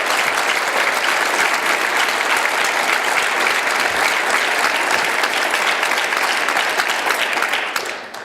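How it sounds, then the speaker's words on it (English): Sustained audience applause at a public talk for an Illinois innocence advocacy group, steady and dense for the full length, fading slightly at the very end. "you deserve a round of applause"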